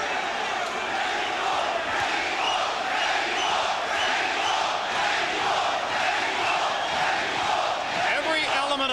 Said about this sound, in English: Every element of crowd noise you hear, the chants, the cheers, the spontaneous eruptions, will all be for El Terrible, Erik Morales